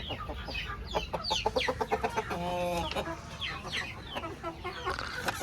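A large Sarail chicken on a small farm with deshi chickens, Brahmas and quail, clucking in quick, busy bursts up close, with other fowl calls around it and little talk.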